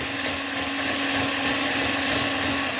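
An electric mixer whips egg whites to stiff peaks for a chocolate mousse, a steady, loud, continuous whir with no pauses and no talking.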